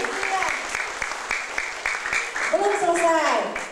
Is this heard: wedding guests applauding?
yes